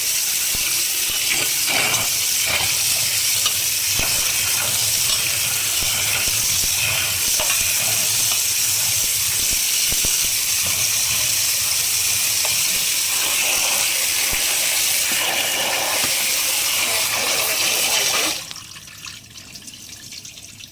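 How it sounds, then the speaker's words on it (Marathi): Bombil fish are washed under a running kitchen tap with a continuous, loud rush of water, steady and close for most of the stretch, then dropping to a softer trickle near the end. "तर मी आता नळाखाली एक वेळा छान असे धुवून घेते मी"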